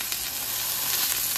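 Vegan burger patty frying in a skillet over high heat, a loud, steady, close crackling sizzle that holds constant throughout.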